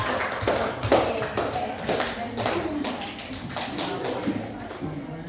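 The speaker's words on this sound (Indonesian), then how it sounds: "tepuk tangan untuk Hesti dan Bella" Classroom audience of teachers clapping for two presenters, a quick run of scattered hand claps and taps lasting several seconds, with faint voices in the background.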